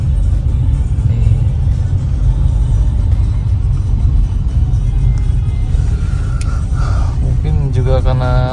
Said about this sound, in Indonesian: Moskow juga macet seperti ini